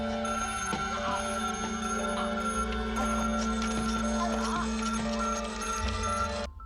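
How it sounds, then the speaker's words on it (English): A basic rotary phone from Radio Shack rings in a steady, continuous bell tone, close and fairly loud, with a dense background of other sound underneath. "the telephone was played by a basic rotary phone from Radio Shack"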